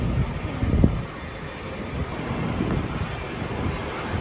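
Steady buffeting wind noise rumbles against the microphone outdoors in New York, with a brief low thump near the start and no voices.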